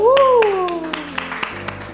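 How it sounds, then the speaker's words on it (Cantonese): Children on a classroom-style kids' show clap for a boy named Johnny, a quick run of evenly spaced claps close by. A voice speaks over the first claps, and the claps continue alone after it. "應該要俾啲掌聲啊，Johnny叻仔。"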